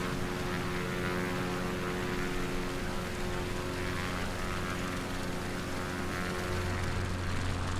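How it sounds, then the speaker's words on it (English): Propeller-driven fixed-wing aircraft passing overhead near the Aberdeen coast, a steady continuous droning hum with layered engine tones, moderately loud and unbroken, with no talking. "There's a plane on there."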